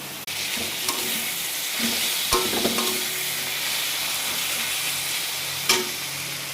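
Bottle gourd curry (lau ghonto) tempered with black cumin and green chilli cooks in a pan, giving a steady loud hiss and sizzle with a few faint clinks of a utensil.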